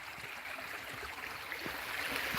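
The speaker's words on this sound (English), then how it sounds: "I'm going to cross this wee bit of a river here. The river's really, it's only a stream kind of thing." A small river, little more than a stream, flows with a faint, steady watery rush and light gurgling close by, with no voices over it.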